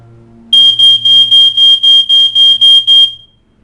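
A smoke alarm being tested shrieks in ten rapid, evenly spaced high-pitched beeps, loud and close, over a faint low background hum.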